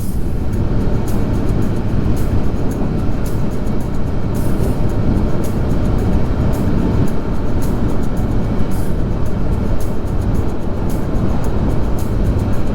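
A motorcycle cruises at about 74 km/h on a Japanese expressway, a constant loud rumble of engine and wind roar filling the entire stretch with no pauses and no talking.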